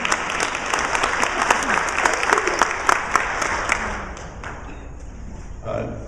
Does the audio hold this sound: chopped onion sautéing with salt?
no